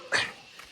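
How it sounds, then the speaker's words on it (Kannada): A dog gives a single short yelp in the background, brief and fairly faint against a quiet outdoor backdrop. "ಅದರಿಂದ ಸ್ವಲ್ಪ ಬ್ಯಾಕ್ಗ್ರೌಂಡಲ್ಲಿ ನಾಯಿಗಳು ಬೊಗಳ್ತಾ ಇರುತ್ತೆ."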